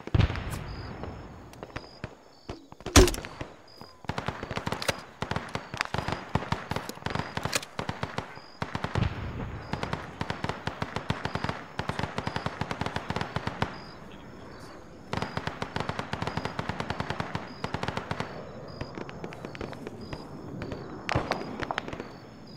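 Dense, rapid gunfire from the military video game ArmA crackles almost nonstop in loud, rattling bursts, with one sharp, heavy blast near the start and brief lulls between volleys.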